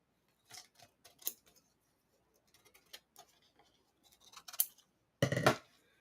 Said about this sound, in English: So I'm going to cut this so I can commit to it.